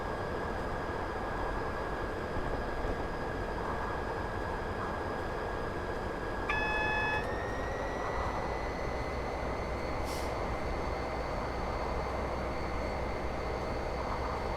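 A Class 59 diesel locomotive hauls a cargo train on the Medway Valley Line in Train Simulator 2018, its steady engine drone humming throughout, shifting pitch about halfway and joined by a brief hiss later on.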